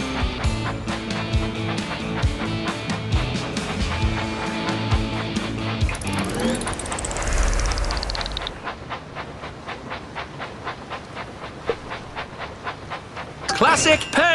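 A toy train engine in the game Thomas & Friends Minis chugs and hisses over cheerful game music, followed by a rising whistle and a rapid mechanical clatter.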